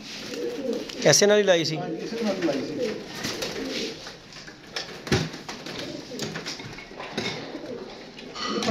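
Pigeons of a teddy breed coo softly and repeatedly near a loft while someone talks over them in the foreground and a brief whistle-like call rises at the start.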